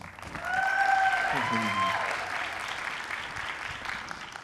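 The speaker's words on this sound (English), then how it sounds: "let's give a big round of applause to Maxine Williams from Facebook" An audience at SXSW 2015 applauds Maxine Williams of Facebook with loud, sustained clapping that fills the room from start to finish, opening with a few brief tonal sounds before the applause takes over.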